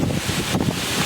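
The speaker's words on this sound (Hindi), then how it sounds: "तेज़ हवा चल रही है" Strong, gusting wind during a storm on an outdoor walking pilgrimage along the Narmada river in India, roaring steadily as broadband buffeting at the microphone with no voices.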